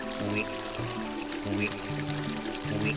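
Flowing water in Zora's Domain in Ocarina of Time, a steady trickling stream under layered game music with a low melodic line, continuous and moderately loud.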